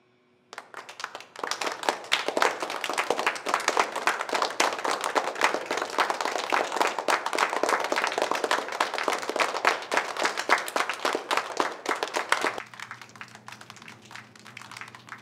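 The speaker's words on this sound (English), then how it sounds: "Please give a round of applause for student body president this term" Audience at a school assembly applauds the student body president, dense sustained clapping that starts abruptly, holds for about twelve seconds, then cuts off into a quiet room hum.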